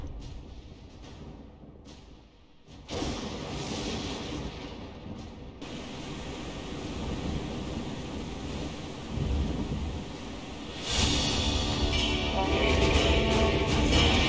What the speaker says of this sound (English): This is raining.